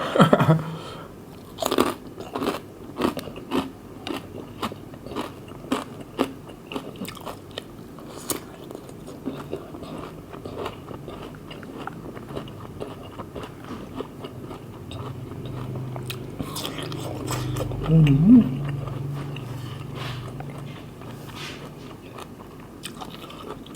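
Crunchy fried June beetles eaten with pork rinds: close, repeated biting and crackly chewing over about twenty seconds, with heavier crunching near the end and no talk.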